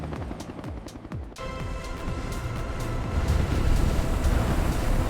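A helicopter engine spooling up and lifting off, its rising turbine whine and throbbing rotor growing steadily louder and denser over a few seconds, with no voices.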